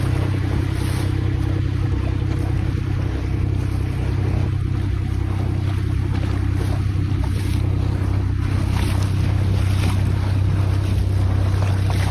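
A boat motors out to sea off Chumphor, Thailand, for squid fishing: a steady engine drone with wind buffeting the microphone and waves washing past, continuous throughout with no talk.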